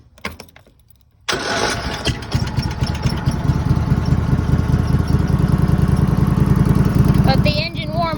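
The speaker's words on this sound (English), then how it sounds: "Starting my lawnmower after 3 days of sitting." A lawnmower engine cold-starts after three days of sitting: a few weak cranking pulls, then it abruptly catches and settles into a loud, steady, rough idle close by before cutting off near the end.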